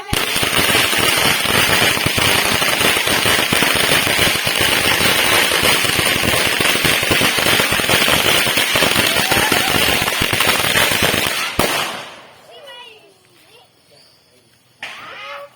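Firecrackers crackle in a dense, continuous loud barrage during Hari Raya celebrations in a village in Perak, then cut off abruptly, leaving quieter background noise and a last faint pop.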